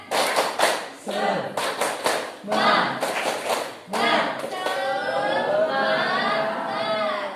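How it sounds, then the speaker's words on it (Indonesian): A class of students claps out a rhythmic 'tepuk semangat' cheer in bursts of quick, loud, near claps, with chanting voices and chatter mixed in. "Kita tepuk semangat ya"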